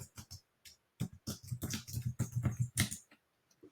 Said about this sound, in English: you can type in